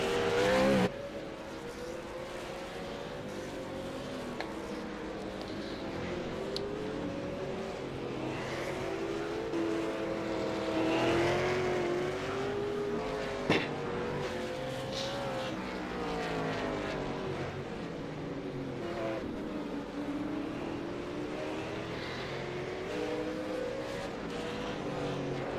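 V8 Supercars racing at Sonoma, engines wailing as they rise and fall through gear changes, several cars heard at moderate distance, sweeping past in overlapping waves over a sustained, continuous racing drone.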